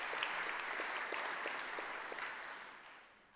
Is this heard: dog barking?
no